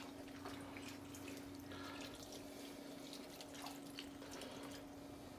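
Water with onion soup mix pours into a pot around a roast, a soft steady liquid splash and trickle, close and fairly quiet, with no talking.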